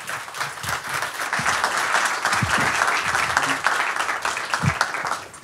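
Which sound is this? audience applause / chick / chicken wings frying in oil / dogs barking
audience applause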